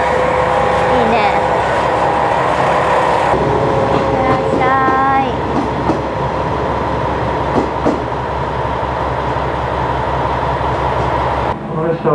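Aboard the Okuizumo Orochi sightseeing trolley train on a Japanese rural line, a steady loud rumble of rolling wheels and carriage noise fills the clip, with faint squeals and a calm announcement voice over it.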